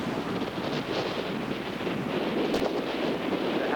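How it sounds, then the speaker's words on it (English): Wind whipping across a stormy Cape Cod shore at very high tide, a steady broadband rush with buffeting against the microphone and surf noise underneath, no voices. "You can hear the wind whipping."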